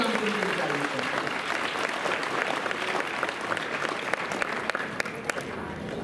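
An audience at a child-care institution's annual gathering claps in dense, sustained applause that fills the hall, with voices mixed into the crowd noise.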